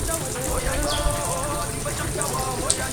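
Rain falls steadily as a soft, dense hiss and patter of drops, constant and fairly faint, with no voices.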